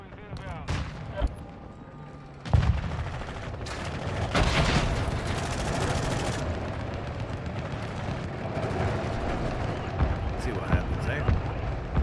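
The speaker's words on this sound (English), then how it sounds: "Where the hell's that shot coming from?" Gunfire in a Call of Duty Modern Warfare 2 Invasion match, with sharp shots and bursts cracking over a dense, rumbling battlefield din while players talk over the action.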